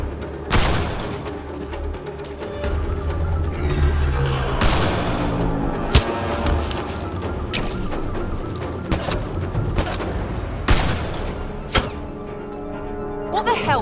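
Gunfire in a Mass Effect Andromeda firefight on Kadara, sharp loud shots and bursts cracking irregularly over a dense battle din, with voices shouting through it.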